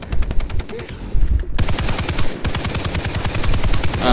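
Rapid gunfire rattles in co-op play of the Far Cry 3 video game, with dense automatic bursts in quick succession and a brief gap before the shooting resumes.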